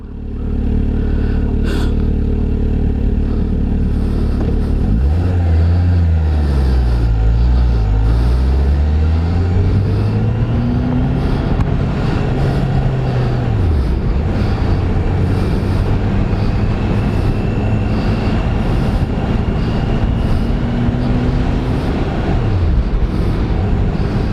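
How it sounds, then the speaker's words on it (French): Kawasaki Ninja H2 SX SE with a smooth 1000cc four-cylinder engine hums under riding, its pitch rising and falling through gear changes and acceleration over steady wind roar, with no voices. "Le moteur est très doux, à 4 cylindres 1000"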